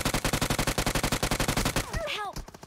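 Rapid automatic gunshots in a video game, a fast steady rattle of evenly spaced shots for nearly two seconds, then stopping as a few whistling, warbling tones sound.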